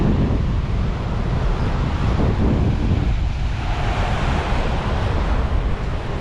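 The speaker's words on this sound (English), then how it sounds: "Very windy this area." Strong wind roars steadily and loudly on the coast at Cabarete in the Dominican Republic, a continuous buffeting rush with the surf blending in.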